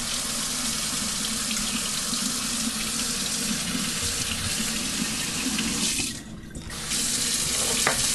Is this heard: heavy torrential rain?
no